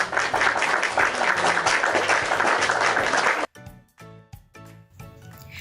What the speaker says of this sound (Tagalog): Bigyan nyo nga sila ng palakpak,